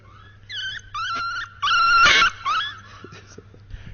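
Dogs whimper and whine in high, wavering cries, several bursts that swell to a loud, strained peak midway before trailing into softer yelps, over a steady low hum.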